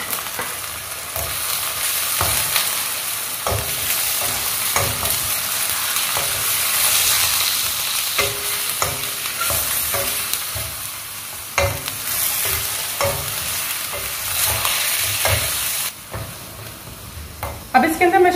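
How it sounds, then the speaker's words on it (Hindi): Chicken frying with sautéed onions in a pan, a steady loud sizzle and hiss with repeated scrapes and knocks of stirring running throughout. "प्याज सौते हो गई है और मैं इसके अंदर अब डालने लगी हूँ चिकन"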